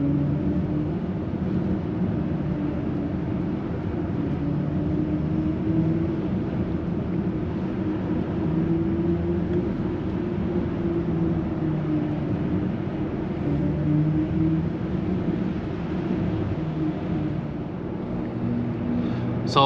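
A 2023 BMW iX 50 electric car's synthetic drive sound while braking: a steady, droning hum with layered tones running continuously for about twenty seconds, fairly loud inside the cabin, with no talking.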